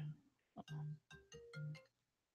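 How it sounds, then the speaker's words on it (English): Mobile phone ringtone playing a short, faint melodic sequence of tones indoors, brief and alone without talk. "Sorry about my phone."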